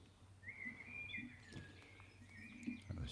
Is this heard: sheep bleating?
no